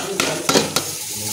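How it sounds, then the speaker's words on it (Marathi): Remaining masala being stirred into partly cooked brinjal in a pan, with three short, close scraping strokes of a spoon over a soft continuous sizzle. "तर ह्यामध्ये आता कणी हा शिल्लक राहिलेला मसाला घालायचा"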